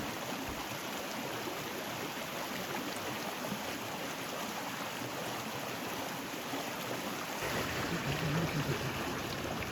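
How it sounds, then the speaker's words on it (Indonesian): A small stream in the tea-plantation countryside near Ciwidey, West Java, gives a steady, even rush of babbling water, close and unbroken. "gemericik air sungai kecil yang ngalir alam"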